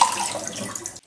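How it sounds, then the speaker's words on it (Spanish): Cold tap water runs over cooked lasagna sheets in a kitchen sink, a close, steady splashing stream that stops abruptly after about a second. "La enjuagamos con agua fría"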